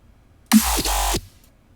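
A thick, growling Serum synth bass note with pitch bend and a sharp snare hit on top, lasting under a second, then cutting off into quiet.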